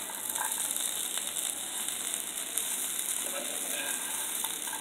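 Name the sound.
chickpea bhuna being stirred with garam masala in a pan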